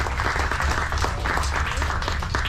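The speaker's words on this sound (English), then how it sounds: "let's give a round of applause to Ollie" An audience at a speaking event applauds steadily, a dense sustained burst of many hands clapping together at close range.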